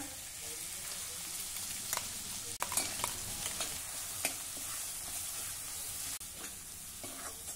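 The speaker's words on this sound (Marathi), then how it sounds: "इथे कढईमध्ये साधारण 3 ते 4 टेबलस्पून तेल मी गरम करायला ठेवलं। यामध्ये हे वाटण घालूया।" A low, steady sizzle of ground paste of coriander, cumin, chilli and garlic frying in oil in a kadai, with a few sharp clicks of a spoon against the pan, quiet and close.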